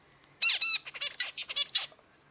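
Zebra finches in a breeding setup give a close run of bright, rapid squawking calls and chirps, several quick bursts in a row with no talking.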